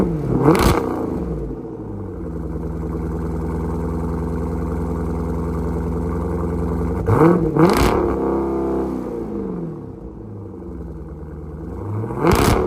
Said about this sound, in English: my Borla exhaust on my Jeep SRT